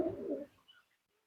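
A pigeon, a flyer bird kept by a pigeon fancier, gives a short, soft coo up close. A brief burst is followed by fainter after-notes, then quiet.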